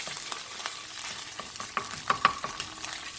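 Garlic paste and scallion whites sauté briefly in a hot pan, a steady close sizzle broken by light scraping taps of a utensil stirring.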